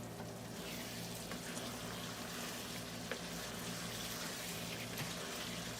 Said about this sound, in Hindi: चावल के पानी ड्रेन करते हैं।